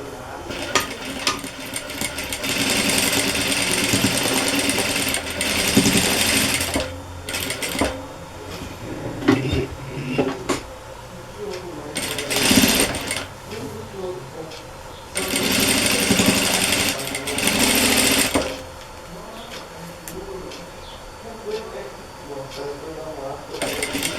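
Sewing machine stitching joined strips of fabric for a Seminole-pieced border on a dish towel, running in several loud sustained bursts separated by pauses, with someone talking in between.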